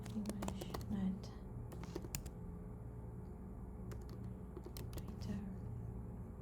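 Quick bursts of typing on a computer keyboard, sharp clustered key clicks near the mic separated by short pauses, with faint murmuring in the background.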